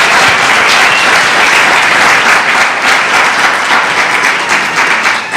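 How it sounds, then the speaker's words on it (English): Loud, sustained applause from an audience at a swearing-in ceremony, dense steady clapping filling the room throughout. "I think we should give them all another round of applause."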